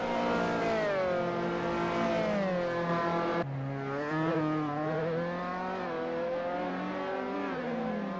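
An RSR Dallara F317 open-wheel race car pulls out of the pits at the Red Bull Ring in a sim racing game, its engine whining loudly and climbing through the revs, with a sharp gear change midway before it builds again.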